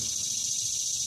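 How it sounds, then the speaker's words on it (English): Cicadas buzz outdoors in a steady, high, continuous drone that stays even throughout the short stretch, with no voices. "You hear these cicadas?"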